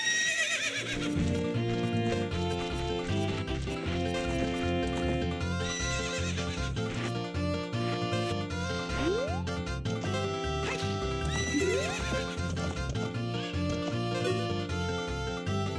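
In Legend of Zelda: Ocarina of Time, a horse whinnies twice over busy game music, with steady clip-clopping hooves running underneath throughout during a race around a corral.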